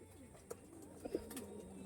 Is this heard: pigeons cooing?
yes